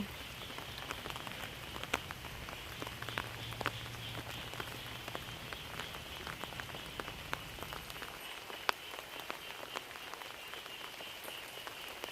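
Rain falling outdoors, a steady dense patter of drops with sharper individual splats scattered throughout, fairly close and continuous with no talking.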